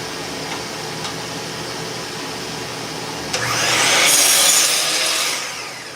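Wood being cut for sound diffusers: a quiet hum, then a power saw bites in at about three seconds and rises to a loud, close whining cut that tapers off near the end.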